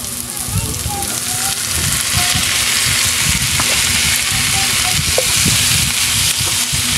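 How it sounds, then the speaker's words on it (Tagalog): Chicken liver and onions sizzle steadily in a hot frying pan, a dense crackling hiss with occasional stirring scrapes, close and loud, as a person talks over it. "Tapos po yung nilalagay na po natin yung atay kaninang niluto natin."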